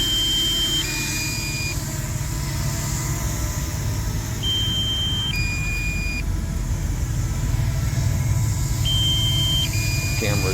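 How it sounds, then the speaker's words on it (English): The DJI Mini 2 drone app sounds its low battery warning from a phone, a repeating two-note electronic beep pattern in three clear bursts over steady truck engine idle and background noise. "low battery warning"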